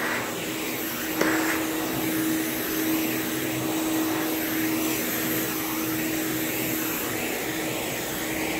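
A vacuum cleaner runs steadily on commercial carpet, a continuous loud whine with a strong tonal hum and no breaks, along with a brief bump near the start.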